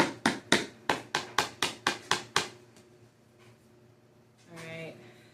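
Nine sharp, evenly spaced hammer blows ring out in quick succession close by during home decorating work, followed by quiet room noise and a brief murmur of talk near the end.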